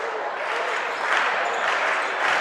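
A high school basketball crowd at a John Glenn Muskies versus Philo Electrics game claps and cheers in a dense, steady wash of applause filling the gym.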